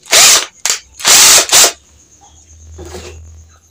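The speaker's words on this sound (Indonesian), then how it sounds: "Ini kurang besar sedikit, bisa kita pakai bor untuk memperbesarnya." A drill whirs loudly in four short bursts while enlarging a hole in an aluminium pipe flute, then a faint low hum and a softer burst follow near the end.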